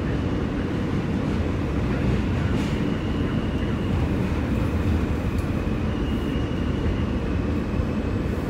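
A Manhattan-bound W local subway train in New York City rumbles steadily along the track, a dense continuous roar from inside the car with faint squeals above it.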